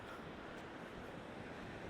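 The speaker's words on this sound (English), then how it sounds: "It's a little bit windy today" Steady wind rushing and buffeting against the microphone on a winter beach at Monte Gordo, with a broad roar like surf in the background, continuous and fairly loud throughout.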